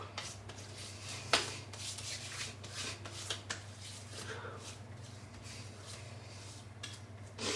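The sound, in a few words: hands rubbing shaving cream together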